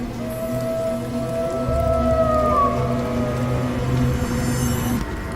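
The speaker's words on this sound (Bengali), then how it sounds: "দূরে সরা গেল শিয়ালের ডাক" A distant jackal howls in long, wavering rising and falling tones over steady rainfall on a stormy night, a cartoon horror sound effect with no voices.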